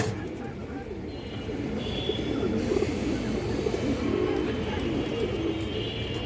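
Male pigeons coo in soft, repeated throaty calls among a flock of high-flying breeds, heard over a busy, noisy background.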